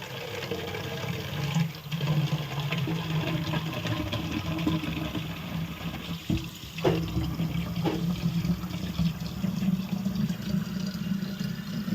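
Tank-fed water pours steadily from a household tap for about twelve seconds, a continuous close rushing splash with no talking.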